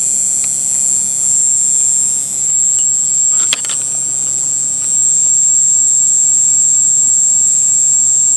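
A MagSpinner pulse motor spins at about 8,500 RPM, giving a steady high-pitched whine with a constant electrical hum beneath it and one brief click partway through.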